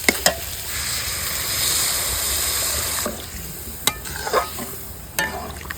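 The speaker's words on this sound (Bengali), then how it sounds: "এইবার আমার কষানো হয়ে গেছে এইবার আমি জল দিয়ে দিচ্ছি" Water poured into a pan of vegetables frying with poppy seed and mustard paste sends up a steady close sizzle, with sharp scraping taps of a spoon stirring at intervals.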